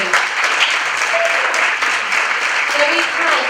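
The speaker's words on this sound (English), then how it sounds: "Can we all give the judges a round of applause as well, please?" Audience applause for the judges at a hairdressing event at Farnborough College of Technology, steady and dense across the whole stretch with a faint murmur of voices beneath.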